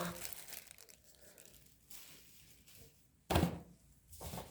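Paper wrapping crumpled and set aside while unboxing a DeAgostini Subaru Impreza WRX STI model car, with crinkling rustles and a sharp loud crunch near the end, close and fairly quiet.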